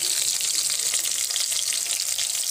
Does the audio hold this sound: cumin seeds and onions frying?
yes